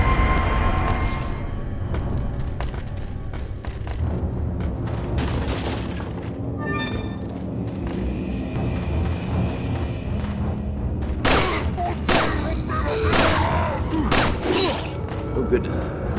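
Gunfire and heavy booms in the Resident Evil 4 video game, with repeated blasts and sharp impacts scattered through the clip over a dense game soundscape.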